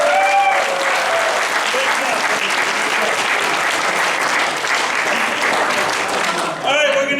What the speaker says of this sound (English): I want them both in a round of applause.